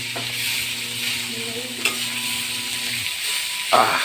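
Fish escabeche with grouper, stirred in a frying pan with a steady sizzle throughout, a faint hum and a couple of sharp utensil scrapes against the pan.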